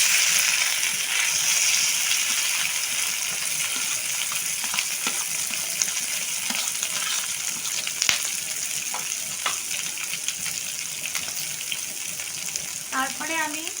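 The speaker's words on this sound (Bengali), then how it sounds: "এবার আমি মাছ আর আলুটা যে একসঙ্গে মেখে নিয়েছিলাম ওটা আমি তেলের ভেতরে দিয়ে দেবো।" Mashed fish and potato mixture for fish fingers goes into hot white oil in a pan, giving a steady, bright sizzle with occasional spatula taps and bubbling spurts throughout.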